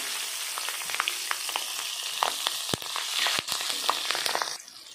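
Bay leaf, nigella seeds and slit chillies dropped into hot oil, crackling in a steady close sizzle with sharp pops and spits, fading out near the end.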